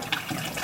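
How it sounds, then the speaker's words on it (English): Constant running water rinses black-and-white film during developing, a brief, steady splashing hiss of flowing liquid. "constant running water."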